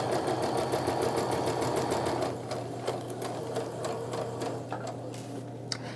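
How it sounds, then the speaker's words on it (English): Sewing machine stitching a 1/4 inch seam along quilt fabric pieces, a steady close mechanical whir with a rapid needle rhythm that eases off halfway and continues lighter, with a few small clicks. "So I'm going to go ahead and sew these together"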